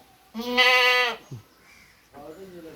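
A goat that has recently given birth to two kids gives one loud, wavering bleat nearby, followed a moment later by a softer, shorter bleat.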